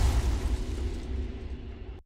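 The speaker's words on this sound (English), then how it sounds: "More explosion." A deep, rumbling explosion booms and slowly decays, then cuts off abruptly after about two seconds.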